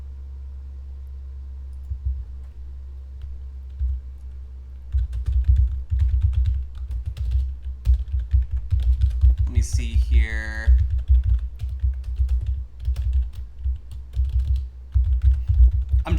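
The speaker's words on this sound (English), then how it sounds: "I'm just typing in." Rapid bursts of typing on a computer keyboard, close and fairly loud, with clustered key clicks in uneven runs over a low steady hum and someone speaking briefly.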